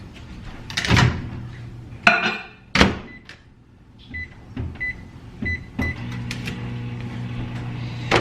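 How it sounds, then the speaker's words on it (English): Kitchen sounds: a door thuds shut, buttons beep, and a microwave oven starts up with a steady low hum. "I'm gonna throw it in the microwave for like 15 seconds so it gets melted"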